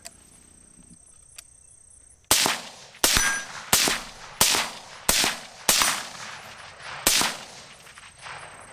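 Rifle gunshots fired through an LPVO scope at a target outdoors: seven sharp, loud reports at roughly even intervals of under a second, each ringing out briefly, with insects chirping steadily in the background.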